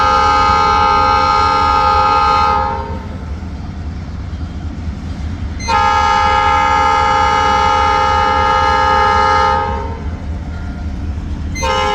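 A train passing a crossing blasts its horn in long, loud, sustained chords, two extended blows separated by a few seconds of rolling rail rumble, with a third blast just starting at the end.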